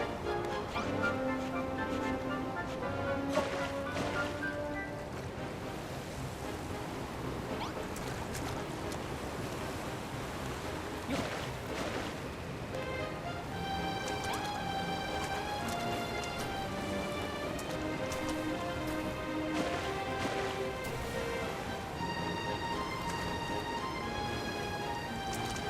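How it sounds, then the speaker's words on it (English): Steady flowing river water in the Dragon Quest Builders 2 video game, a continuous wash of rushing noise throughout with soft game music tones layered over it. "You got the water flowing, Rex."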